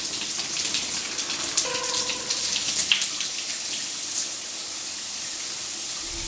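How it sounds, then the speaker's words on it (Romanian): Shower water runs steadily throughout, a continuous bright hiss and splash with no voices over it. "Deci, hai în duș!"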